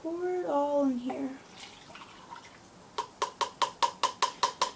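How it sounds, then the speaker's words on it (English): Liquid is poured into a measuring cup for a simple chemistry demonstration. A voice speaks briefly first, then a steady run of about ten evenly spaced glugging pulses follows, close and clear. "So then I pour it all in here."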